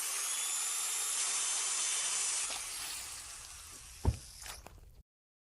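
A high, whining power drill in a video game spins steadily for several seconds, then winds down, followed by a couple of short thuds before silence.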